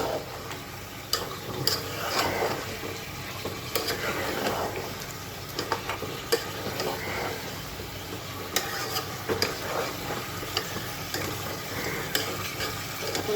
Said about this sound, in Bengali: দেখুন এটাকে আমি একটু উল্টিয়ে পাল্টিয়ে দিচ্ছি